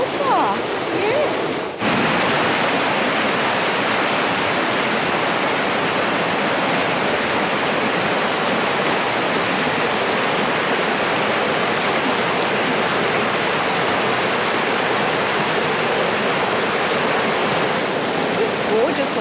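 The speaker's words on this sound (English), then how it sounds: "This is the Barrington River." The Barrington River near a campground in New South Wales, Australia, flowing with a loud, steady rushing roar of water that holds even and unbroken throughout, close by, with no talking.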